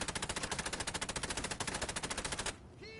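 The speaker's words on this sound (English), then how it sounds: "The minute he stops shooting and reloads, we've got to go." Enemy automatic gunfire rattles in fast, even bursts in the video game Assassin's Creed Chronicles: Russia, loud and sustained for a couple of seconds before cutting off abruptly into a quieter lull.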